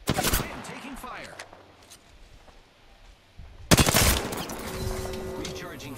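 Gunfire in the Apex Legends video game during a final-circle fight: a sharp burst at the start, quieter stretch, then a loud rattling volley of rapid shots.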